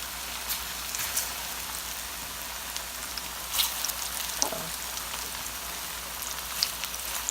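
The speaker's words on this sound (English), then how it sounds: "So you want to let these fry for a while." Sweet plantain slices fry in a pan, putting out a steady hissing sizzle with scattered sharp pops and crackles for several seconds, close and moderately loud, with no voices.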